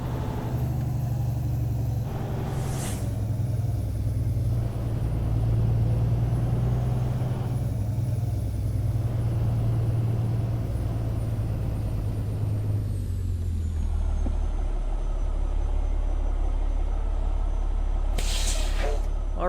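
A heavy truck in American Truck Simulator rumbles steadily at low idle while parking, with sharp hissing air brake bursts near the start and again at the end.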